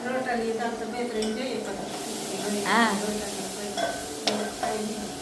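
Khichdi being tempered sizzles and hisses in a hot pan with some stirring, while people talk over it.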